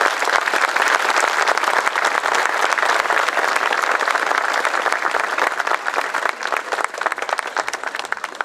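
Sustained, dense applause from a large crowd, loud and continuous throughout with no pauses.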